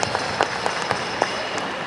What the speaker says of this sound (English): How about a round of applause once again?